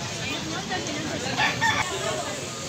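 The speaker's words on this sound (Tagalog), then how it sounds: "Nindot nga manok ka." Rooster crowing and clucking among a group of gamefowl, faint and somewhat distant over a steady murmur of background noise and voices.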